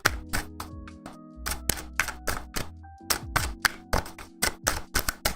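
A tarot deck is shuffled again and again, with crisp, rapid card riffles and taps coming in quick, close bursts.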